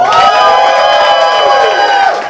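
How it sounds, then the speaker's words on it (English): A roast battle crowd in Hartford claps, cheers and whoops loudly to vote for a competitor, a dense, close, continuous roar of voices and hands. "Audience, if you thought Ali was the winner of this battle, clap your hands."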